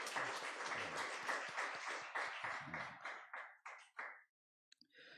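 A church congregation applauds in thanks, a dense burst of clapping that thins into scattered claps and stops after about four seconds, followed by a moment of near silence and a few faint taps.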